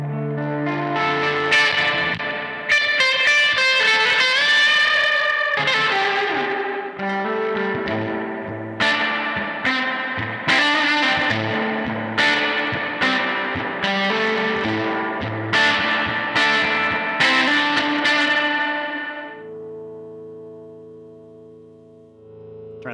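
An electric guitar played through a Fender Princeton amp with the reverb turned all the way up rings out in strummed and picked phrases, bright and lush with a long wash of reverb, for about twenty seconds with no talking.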